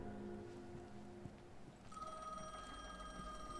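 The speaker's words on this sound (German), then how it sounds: "Natürlich klingt das Telefon, wenn das schon eins ist." A telephone rings inside a building in the horror video game The Medium, a clear electronic trill starting partway through over low, dark ambient rumble, fairly faint and alone without talk.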